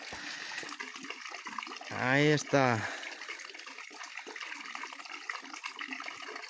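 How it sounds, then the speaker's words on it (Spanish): Fresh spring water from the mountain flows with a constant soft rushing hiss, while someone speaks briefly over it. "aquí tenemos agua fresca, que viene directamente de la montaña, de un manantial"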